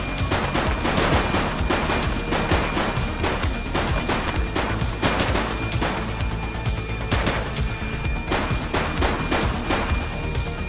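Sustained video-game gunfire in a police-style shooter, dense volleys of rapid shots and bursts running continuously and loudly throughout with no speech.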